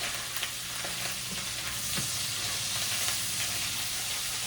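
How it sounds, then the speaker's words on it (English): Butter melting in a pan, giving off a steady close sizzle and frying hiss with light stirring clicks, no voices. "once that butter starts melting down, you don't really want to brown it"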